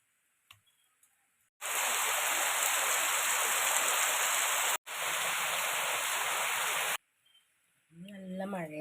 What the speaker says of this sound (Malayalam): നല്ല മഴയുണ്ട് അല്ലേ?